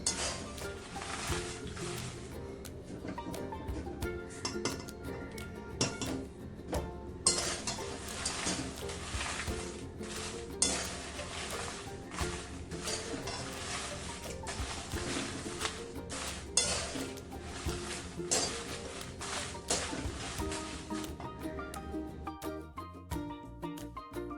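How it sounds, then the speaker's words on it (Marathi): Sun-dried chillies roasting in oil in a pan while a spoon stirs and scrapes, soft clinking and rattling over a faint frying hiss, with music playing steadily underneath. "दोन दिवस उन्हामध्ये सुकून घेतल्या चांगल्या मिरच्या आणि आता थोडे थोडे करून भाजायचे"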